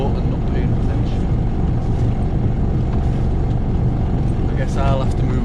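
A motorboat engine drones steadily close by a small sailboat, a continuous low rumble with water noise that holds the whole time.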